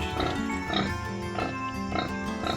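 Repeated snorting grunts from a nursing sow, several short bursts in a loose rhythm, fairly close and steady in loudness.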